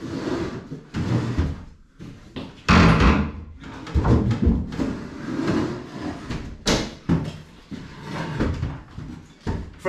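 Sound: front door opening and closing during renovation

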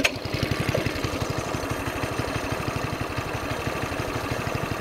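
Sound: Bintelli S1 racing go-kart engine running

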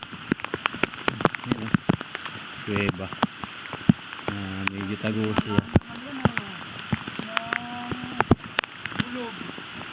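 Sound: rain falling in forest

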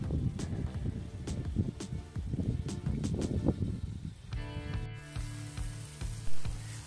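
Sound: vegetables lightly frying in a kazan over a campfire

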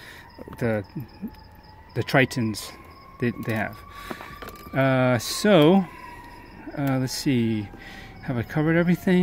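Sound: distant emergency sirens from a fire

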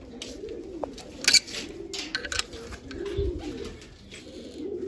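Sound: pigeons cooing in loft

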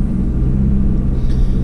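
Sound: car being driven, heard from inside

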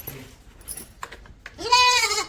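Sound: goats bleating

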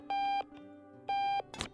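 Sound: alarm clock beeping in Octodad video game

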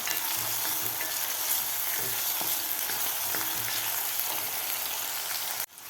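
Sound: frying chopped tomato with golden onion until soft

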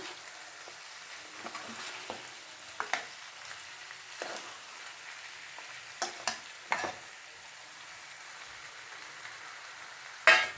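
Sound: chopped tomatoes frying in a pan for pepper chicken gravy

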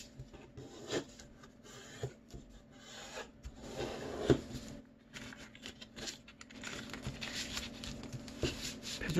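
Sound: folding colored origami paper

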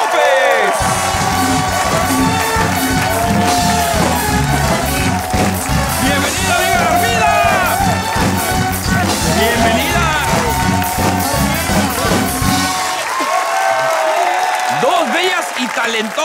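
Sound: studio audience applauding and cheering for guests

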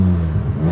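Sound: car engine revving with full exhaust

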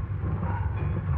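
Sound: train in a railroad yard

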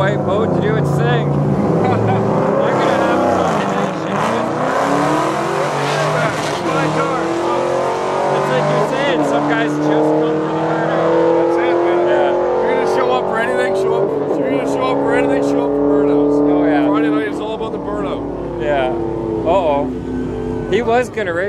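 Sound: big white car nicknamed the boat racing down the drag strip

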